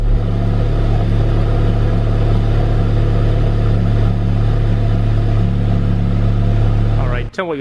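A Honda Civic Type R running with its muffler and resonator removed idles loud and close in a steady, deep drone. It cuts off abruptly near the end.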